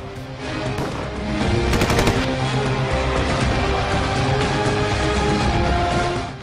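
Sustained gunfire across the Line of Control in the Nikyal sector, dense rattling bursts and sharp cracks filling the whole stretch at a steady loud level, with a tight cluster of rapid shots near the middle.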